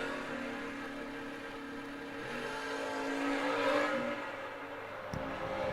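Vintage drag racing cars roar at an old-time drag strip event, a loud sustained engine drone with rising revs rather than one distinct launch, steady throughout with no talk.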